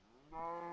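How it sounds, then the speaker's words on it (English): A Minecraft cow lets out one short, faint moo that rises in pitch partway through. "small variations to his moo"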